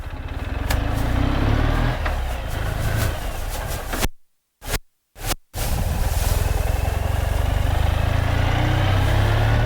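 Ural M70 sidecar motorcycle, a 2016 military-green model with a hand shifter, revving loudly up close, its engine note dropping out abruptly for about a second during gear changes before the roar resumes.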